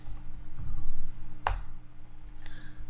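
Typing on a computer keyboard while entering router commands, a few close keystrokes with one sharp clack standing out, quiet and alone against a low steady hum.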